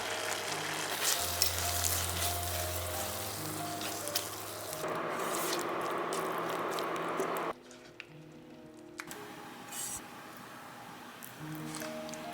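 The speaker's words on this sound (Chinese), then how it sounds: "最后加入淀粉水勾芡" Apple pie filling sizzles and bubbles in a pan as starch water is stirred in to thicken it, a steady close frying hiss with soft stirring, quieter toward the end.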